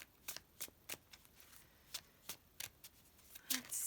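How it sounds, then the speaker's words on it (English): A tarot card deck being shuffled by hand, a quiet close run of crisp riffling bursts repeating in an irregular rhythm. "You can feel free to fast forward through all the shuffling."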